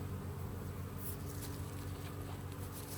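Honey bees swarm around an open hive during a honey harvest, giving a dense, steady buzzing hum that stays close and unbroken throughout, with no talking.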